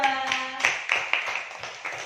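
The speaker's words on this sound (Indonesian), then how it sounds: "Tepuk tangan kelompok 2" A primary school class claps for a student group after their presentation, a brief close burst of hand claps that fades out within about two seconds, with a short tonal sound at the start.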